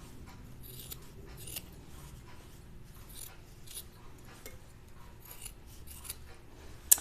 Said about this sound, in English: I kind of hold it this way so I make sure I don't cut anything but the seam allowance